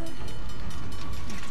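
A train in Uncharted: The Lost Legacy gives off a steady, loud rumbling roar of rolling rail cars with a faint tonal hum, heard briefly and without a break.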